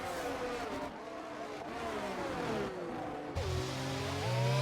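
Formula 1 cars race in the F1 2022 video game at a USA round, engine notes whining up and shifting down in sweeping pitch glides, loud and continuous with no voices.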